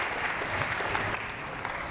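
Audience applause at a college men's basketball signing day event, a short burst of steady clapping from a gathered crowd.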